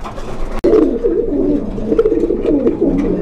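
Pigeons in a loft, high-flying Chila Lakkha birds, coo in a steady low warbling stream. The cooing is close and continuous after a brief sharp knock near the start, with no talk.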